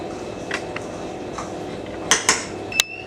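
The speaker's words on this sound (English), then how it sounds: "Mixing everything together until well combined." Coconut cookie ingredients being mixed in a bowl, with a soft steady background and a few sharp clinks of a utensil knocking against the bowl near the end, no talking.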